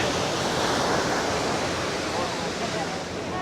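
Ocean surf rolls in on Kuta beach, Bali, a continuous broad wash of breaking waves close by, steady and fairly loud with some wind on the microphone.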